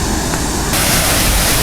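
A steady, loud rush of falling water at Nafakhum Waterfall, Bangladesh, roars continuously, a dense broadband wash with no break.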